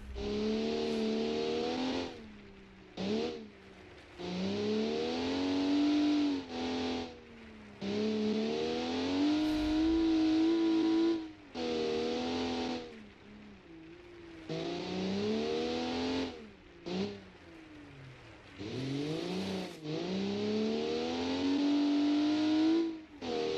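A powerful offroad truck engine revs over and over while slipping on gravel in a 2008 offroad racing video game, its pitch climbing and falling in repeated loud bursts with short breaks between.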